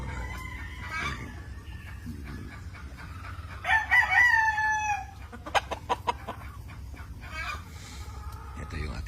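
Power Lemon gamefowl on a breeding farm, with a young broodstag rooster and older hens: a loud nearby crow breaks out midway among clucking and scattered bird calls, while someone talks over most of it.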